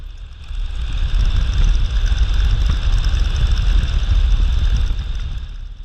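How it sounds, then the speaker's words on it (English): A Stearman biplane's radial engine drones at reduced power while coasting in to land on a grass runway, a steady low rumble with wind rush, loud and close throughout, no voices. "John decreases power to the engines and we begin to coast into the runway"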